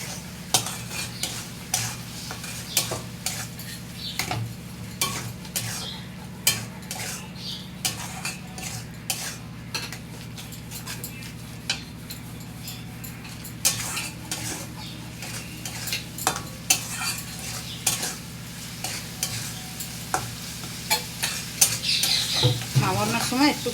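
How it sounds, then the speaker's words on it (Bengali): Spice paste (masala) being stirred and fried in a pan while making an egg and potato curry, with a spoon scraping and clinking repeatedly over a steady sizzle close by, no talk. "মশলাটাকে কষবো"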